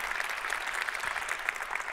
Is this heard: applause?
yes